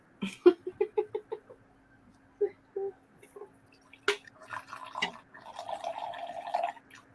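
A drink is poured at a quiet indoor gathering, a few faint drips and trickling splashes in a sparse sequence followed by a longer soft gurgle near the end.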